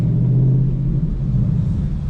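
A McLaren pulling out of a detailing garage in Fort Lauderdale, Florida: a deep, steady engine rumble close by, brief and continuous.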